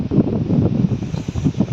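Gusty wind buffets the microphone in uneven, rumbling bursts, loud and close, with no speech.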